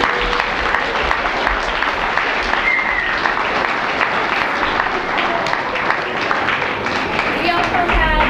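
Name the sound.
audience applause at preschool assembly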